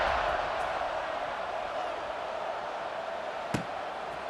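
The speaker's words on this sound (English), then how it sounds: "this crowd is feeling themselves after that last drive" A college football video game stadium crowd for LSU at Clemson keeps up a steady, broad roar of cheering throughout, with one brief sharp thump near the end.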